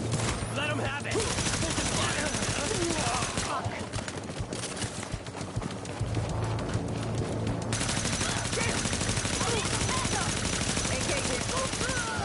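Dense gunfire in The Division, rapid overlapping bursts and shots sustained loud and close throughout, mixed with shouted voices and other game sounds.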